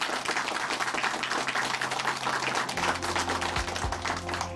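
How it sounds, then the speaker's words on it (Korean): A church congregation applauds after a testimony, brisk clustered hand claps filling the room, with a low organ or keyboard tone entering partway through under the clapping. "다시 한번 박수 보내드릴게요."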